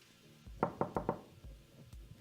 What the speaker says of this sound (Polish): Kto tam tak puka, się dobija, przeszkadza?